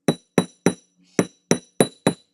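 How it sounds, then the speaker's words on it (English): A hammer strikes a metal jewelry blank on a hard surface to flatten it, giving seven crisp ringing taps in a quick, slightly uneven rhythm, each with a short metallic ring, close and alone with no talk. "then hammer it upside down so then it flattens itself back out"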